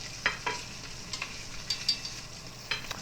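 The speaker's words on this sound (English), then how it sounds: "These make a hell of a mess. They splatter grease all over the place" Beef short ribs browning in a pan under a splatter screen, quiet frying with scattered sharp pops and crackles of spitting grease, no voices.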